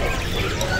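Canaries at a bird market kiosk, quick bright chirps and twitters mixed into a busy, noisy market background in a brief burst.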